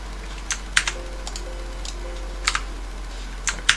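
Computer keyboard keys are pressed in a quiet room, a handful of light, crisp clicks scattered irregularly over a few seconds, close-up, with a steady low hum underneath.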